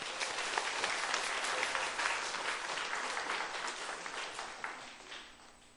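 A church congregation applauds kitchen volunteers and trainees during an afternoon worship service, sustained broadband clapping filling the room at moderate distance, fairly even and slowly tapering.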